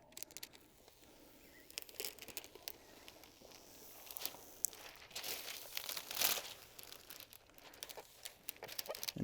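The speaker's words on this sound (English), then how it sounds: "and peel that film off." Protective backing film is peeled off the adhesive side of a temporary floor graphic, giving soft crinkling and tearing rustles in irregular bursts, fairly quiet and close.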